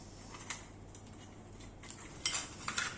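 Light metallic clinks and ticks come from wire binding being removed from an iron miniature cooking set, faint and sparse at first, then a few sharper clinks near the end over quiet room hiss.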